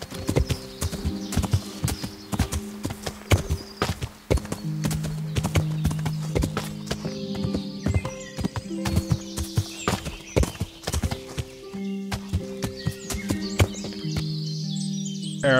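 Hooves clip-clop in a brisk, steady rhythm alongside layered music in the video game Kingdom Come: Deliverance, with a horse whinnying partway through and birds chirping in the background.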